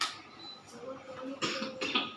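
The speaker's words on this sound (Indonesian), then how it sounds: "batuk saya" A teacher coughs in a classroom, a few short bursts spread across the moment, fairly quiet and close, with no talking over them.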